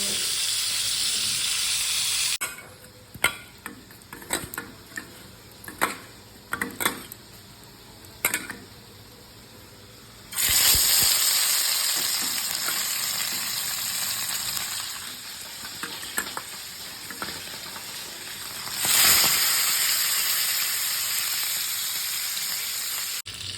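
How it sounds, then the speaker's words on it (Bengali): Steady loud sizzling of fish frying in oil, with intermittent clinks and scraping of a utensil in the pan; the sizzle swells louder twice. "এখানে হচ্ছে মাছ ভাজা আর এখানে হচ্ছে মাছের ঝোল"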